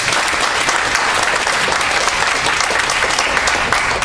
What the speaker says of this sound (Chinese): 我是希望大家给我们的参赛者一个爱与支持的鼓励掌声